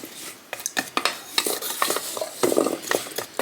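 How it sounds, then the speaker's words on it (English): Carrots are stirred in a bowl to coat them with olive oil and honey, giving a series of close, crisp clicks and wet scrapes of a utensil against the bowl in an irregular rhythm, with no talking. "we're going to mix that well so they're all"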